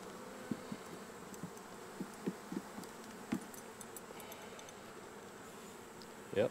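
Honey bees humming in an open hive with the frames being inspected, a steady low drone broken by faint clicks and small knocks of handling, fairly quiet throughout.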